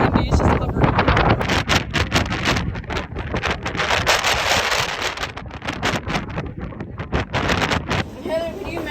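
Strong wind at the beach buffets the microphone in loud, continuous gusts that rise and fall, with some faint voices mixed in.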